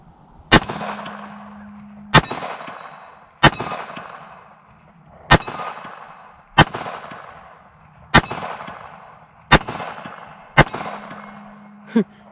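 Sig Sauer P365 .380 pistol firing Remington UMC ammunition at steel plates: eight sharp, evenly spaced shots each followed by a ringing metallic clang that decays before the next, loud and close, with a low hum under some strikes and no talk.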